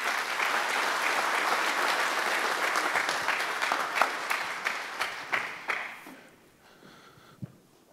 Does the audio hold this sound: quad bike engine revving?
no